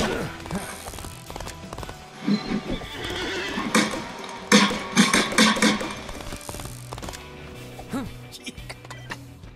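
Horse whinnies and clip-clopping hooves in the video game Disney Infinity, Lone Ranger level, several neighs rising over hoofbeats and game sounds, with voices talking in between.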